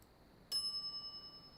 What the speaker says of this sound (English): I step away from the counter for 2 seconds and some idiot's already ringing that stupid bell.